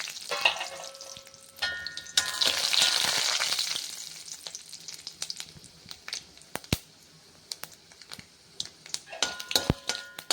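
Mustard seeds and urad dal fry in oil for a Chettinad beans stir-fry. A burst of sizzling rises and fades, scattered sharp pops and crackles follow, and light clinks of a pan and utensil come through close by.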